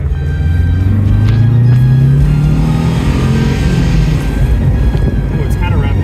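A Subaru Brat with a freshly cleaned carburetor and a rough, barely existent idle drives along, its engine droning steadily and swelling as it revs, with wind rumble and road noise throughout.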